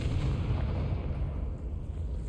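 A Confringo blasting spell goes off in the Hogwarts Legacy video game, a loud, dense explosive rumble with heavy low end that rolls on steadily for a couple of seconds without fading much.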